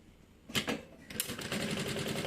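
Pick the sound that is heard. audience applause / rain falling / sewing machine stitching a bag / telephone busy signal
sewing machine stitching a bag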